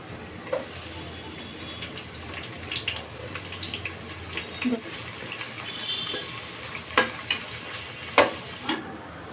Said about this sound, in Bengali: তেল দিয়ে নেব, পরিমাণ মতো তেল দিয়ে আমি পেঁয়াজ কুচি দিয়ে দিলাম।